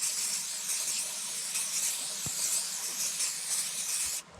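Oil sprayed onto a hot cooking plate makes a soft, steady hiss that sizzles continuously, with a faint knock partway through before it stops abruptly.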